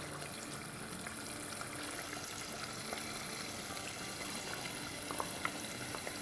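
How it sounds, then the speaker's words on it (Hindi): Ground tomatoes, two medium ones blended without water, go into hot bubbling oil in a cooking pot for a paye curry, giving a soft steady sizzle and liquid bubbling with scattered small pops, fairly quiet and without voices. "तो इस पॉइंट पर हम डाल देंगे टमाटोज़ ग्राइंड किए हुए।"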